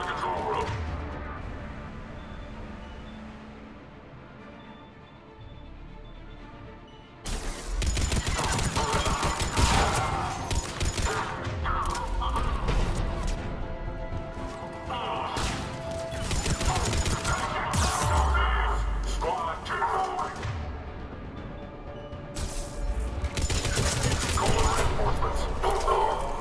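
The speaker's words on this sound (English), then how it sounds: "The cannon fire is clearing the way." Heavy bursts of cannon-like booms and crashing impacts from the video game Mass Effect 3 erupt after a quieter stretch, repeating in loud volleys with gunfire-like cracks throughout.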